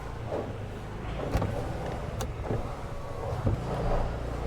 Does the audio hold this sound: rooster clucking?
no